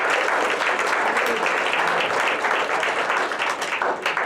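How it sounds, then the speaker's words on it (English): Applause for Debbie at the close of a community initiative session: steady, dense clapping from an audience fills the whole stretch at an even, loud level without a break. "Can we give Debbie a round of applause?"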